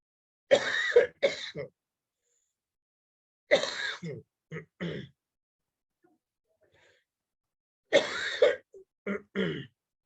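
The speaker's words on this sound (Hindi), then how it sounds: "वो बोलने से खांसी चल रही है उनको" Three separate bursts of harsh, clustered coughing from one person nearby, with quiet pauses between each fit.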